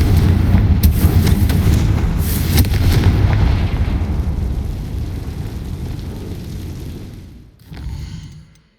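Confringo blasting curse exploding in Hogwarts Legacy, a loud booming blast followed by a long rumbling decay that fades over several seconds, then a brief smaller burst at the end.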